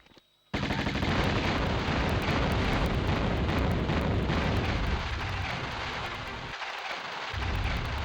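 Uzi fire in Tomb Raider on PS1 destroys the Scion: a sudden, loud, dense roar of rapid shots and blasts that continues with heavy rumbling, briefly dipping near the end before surging again.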